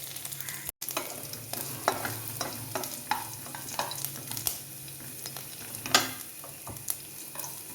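Curry leaves with pepper powder and ginger fry gently in a pan for a radish and bitter gourd thoran, giving a soft steady sizzle with scattered light clicks and scrapes of stirring close by.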